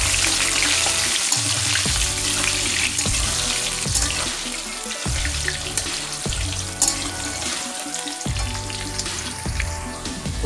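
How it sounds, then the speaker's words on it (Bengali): Diced potatoes frying in a pan, a constant close sizzle with repeated scraping stirs at a fairly regular rhythm. "আলুগুলোকে আমি একটু নেড়ে চেড়ে দেবো।"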